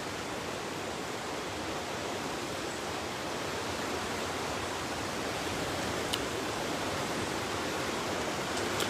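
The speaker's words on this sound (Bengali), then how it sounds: "পানি কিন্তু স্রোত আছে, পানি কিন্তু প্রচুর স্রোত।" The flooding Manu River in Moulvibazar runs with a strong current, a continuous loud broadband rushing roar that holds steady throughout, with no voices.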